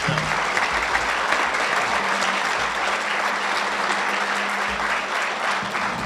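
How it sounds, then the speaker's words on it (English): A room full of guests at an NFL 'Taste of the Draft' event applauds local representatives from Ashwaubenon and Green Bay, a thick, continuous roar of clapping that holds strong and even for several seconds. "How about a round of applause, and maybe raise your hands."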